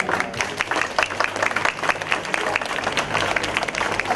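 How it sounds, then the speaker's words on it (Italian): A crowd applauds Lorella Lusi at the naming ceremony of a small piazza in Torino di Sangro, with steady, dense clapping close by and a faint voice or murmur beneath it throughout. "un applauso per Lorella"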